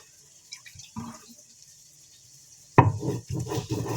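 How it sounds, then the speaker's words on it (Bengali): Poppy seeds being ground by hand on a traditional stone slab with a grinding stone: a few soft scraping strokes at first, then rougher, louder gritty rubbing in quick successive passes, close by. "এখানে পোস্ত বাটা চলছে"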